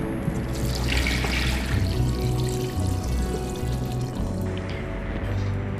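Continuous splashing and gurgling as a liter of water pours steadily into an electric pressure cooker over chicken and herbs, close and fairly loud, with no voices.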